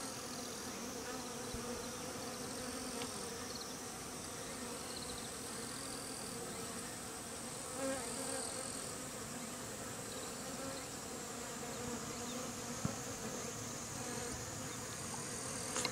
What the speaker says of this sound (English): All these flying bees are returning from the original queen hive.